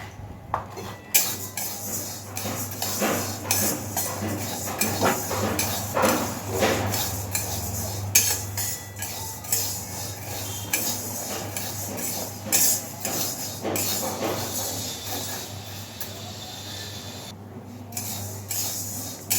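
Gobindobhog rice being washed in a bowl makes repeated clinks, rattles and scraping knocks against the bowl, coming in irregular bursts close by with no speech.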